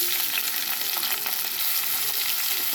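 Onions frying in a hot pan with cardamom, cinnamon, shahi jeera, kasuri methi and cloves while chicken with drumstick is cooked: a steady, close sizzle with faint stirring clicks, no talk.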